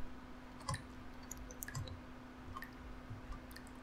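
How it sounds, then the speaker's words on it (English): Faint, sparse drips of water echo in the horror video game Lick, a handful of soft wet clicks spaced about a second apart over a steady low hum. "let's investigate the dripping sound"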